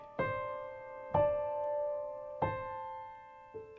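Four piano chords of a minor blues drone lick struck one after another at a slow, even pace, each ringing out with a low sustained bass note beneath; no voices.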